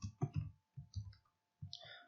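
A few close computer mouse clicks in short separated groups, quiet and crisp against a near-silent background.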